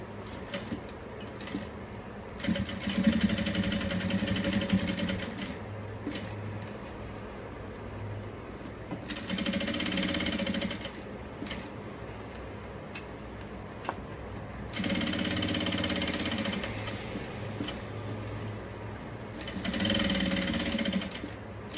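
A sewing machine topstitches a seam on the lining of a shoulder bag, running in four bursts of steady mechanical whirring with quiet pauses and faint handling noises between them.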